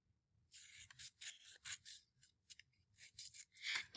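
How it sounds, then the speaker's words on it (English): Scissors cut paper along dotted lines, a quiet, close run of quick rasping snips in short uneven bursts with brief pauses between them, no talking. "I'm going to cut on the dotted lines to make sure that it fits in my book"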